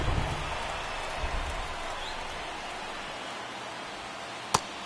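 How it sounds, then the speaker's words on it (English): Steady rain falls on a baseball game in MLB The Show 23, a constant hiss of dense drops with one sharp click near the end. "It feels like we might be headed towards a rain delay if the weather doesn't ease up, Chris."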